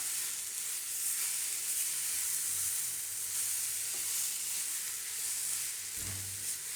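Raw banana and peanut khichdi cooks in a pot on a low gas flame, a quiet, steady sizzle and bubbling hiss with a couple of soft stirring scrapes, no talking.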